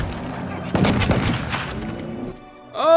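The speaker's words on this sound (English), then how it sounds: "Let's take a shot at the Sporling." A gunshot fired at a Sporling in the Pillars of Eternity game's catacombs: a sharp blast followed by a rumbling tail, then a short bright tonal effect at the end.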